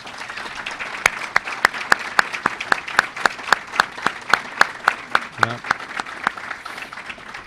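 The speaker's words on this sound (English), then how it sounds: "I want everybody to give them a round of applause" Slow, evenly spaced claps ring out in a press conference room, each one distinct and fairly loud over a murmur of background noise. A voice briefly speaks near the middle.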